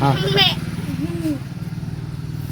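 A person's voice imitates a goat bleat with a short wavering cry at the start, followed by another person briefly saying a word; a low engine-like hum runs underneath.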